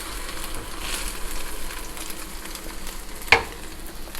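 French toast sizzles steadily in hot oil in a pan as the slice is flipped, a soft continuous fry with one sharp clack near the end.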